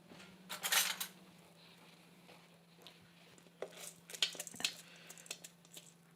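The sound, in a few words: dry green lentils poured into a large saucepan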